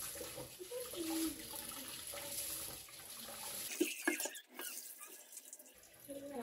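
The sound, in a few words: washing rice under running tap water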